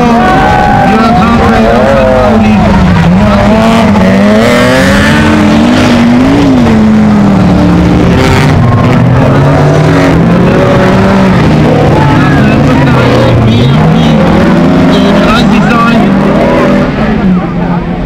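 Racing cars in a class race, including an all-wheel-drive BMW, roar loudly with continuous engine drone and shifting pitch as they accelerate and pass, a commentator speaking over the noise.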